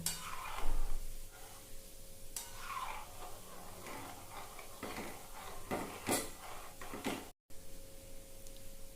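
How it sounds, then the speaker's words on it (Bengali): Flour-dough gulab jamun balls are gently stirred while frying in a pan over low heat, with a spoon scraping and clinking against the pan and a soft sizzle underneath, steady and close. "আস্তে আস্তে এইভাবে নাড়িয়ে নাড়িয়ে ভাজতে হবে।"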